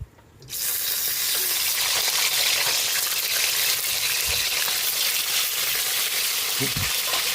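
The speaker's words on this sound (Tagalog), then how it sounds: "Magpiprito na po tayo ng ating isdang galunggong" Galunggong (round scad) fish frying in hot oil, a loud, steady, close sizzle running nearly the whole time after a quiet start, with a couple of brief low knocks near the end.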